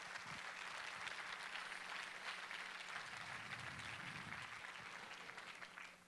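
A church congregation applauds, a dense, even patter of many hands clapping that holds steady throughout and tapers slightly at the end, fairly faint.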